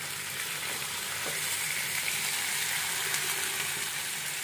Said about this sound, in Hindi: अभी छौंकूंगी इसको लहसुन और जीरे से और मिर्च से